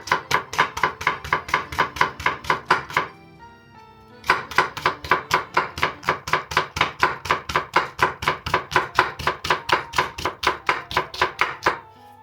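Vegetables sliced and finely chopped with a knife on a board, a fast, even run of crisp close knocks that pauses for about a second and then resumes at the same brisk rhythm.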